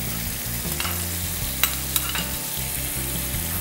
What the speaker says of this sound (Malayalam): അപ്പോൾ നമുക്ക് വെളുത്തുള്ളി ഇതിനകത്തേക്ക് ഇടാം.